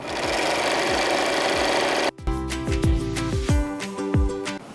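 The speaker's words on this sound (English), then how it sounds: "put my needle down, and sew" A sewing machine stitches quilt fabric along a quarter-inch seam, starting with a soft rushing hiss and then breaking into a loud, fast mechanical chatter with rhythmic pulses as the needle runs through the fabric, with no talking.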